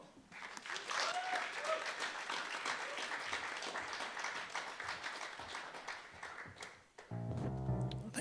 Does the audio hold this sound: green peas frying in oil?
no